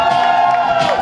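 Children at a festival shouting together in a sustained, loud collective cry that rises and falls briefly, with a crowd-like roar behind it.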